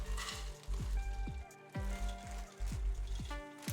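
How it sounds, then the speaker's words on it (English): Corn syrup boiling in a pot for Frito bars, with a quiet, steady bubbling and regular soft pops at a rolling boil. "So it's come up to a rolling boil."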